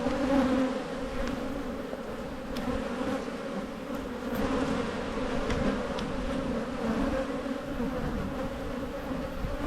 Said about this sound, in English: I shook a heap of bees out of this into the top bar hive